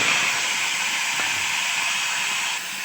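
Black mustard seeds, dried red chilli and a bay leaf sizzling in hot oil for a chalta chutney: a steady, bright frying hiss that holds evenly throughout, slightly easing near the end.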